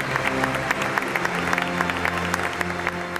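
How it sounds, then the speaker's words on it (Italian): Thousands of faithful applaud in Naples as the San Gennaro blood miracle is announced, a broad sustained crowd clapping with a low steady hum beneath it, sounding large and somewhat distant. "accolta dallo sventolio di fazzoletti e dall'applauso di migliaia di fedeli"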